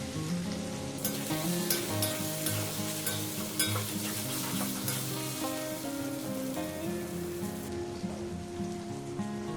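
A large tomato drops into a hot frying pan of chicken curry base with turmeric, setting off a loud, close, continuous sizzle and crackle that stays dense throughout, with stirring under it.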